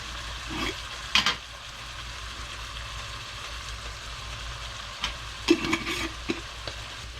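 Smothered cabbage seasoned with spices and dill is stirred in a pot, with a few soft, sparse scrapes and clinks over a faint low kitchen hum.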